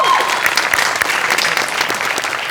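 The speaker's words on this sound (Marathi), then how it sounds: "तर मेकअप दादांसाठी एकदा जोरदार टाळ्या होऊन" Loud, dense applause from a studio audience at a Marathi comedy show, sustained clapping filling the room for a couple of seconds with no talk over it.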